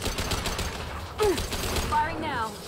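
Rapid weapon fire crackles through a Mass Effect 2 firefight, a dense continuous burst under game music and electronic chirps, with voices in the scene.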